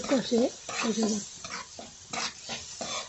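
Spices and chana dal stir-frying in a pan, scraped and turned with a spoon in short bursts, with a voice murmuring over the stirring.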